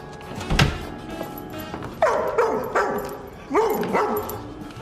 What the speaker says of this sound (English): The dog don't like me. The dog's on a leash.